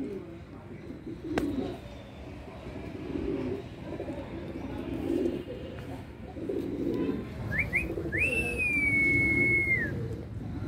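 Pigeons coo softly in a pigeon loft, low murmuring calls repeating under faint background sound, with a few brief chirps near the end.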